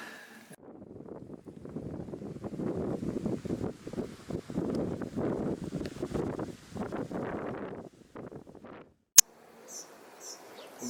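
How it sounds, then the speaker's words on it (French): Leaves rustle in strong gusting wind in the Aubrac highlands, a steady breathy wash rising and falling for several seconds, then dropping away before a sharp click and faint birdsong. "le bruissement des feuilles quoi"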